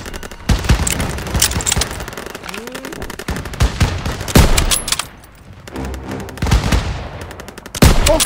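Machine guns and rifles keep up covering fire in a Call of Duty: WW2 stronghold battle at Marigny, France, with loud, dense bursts and booms, a brief lull, then more shots, and shouted voices mixed in.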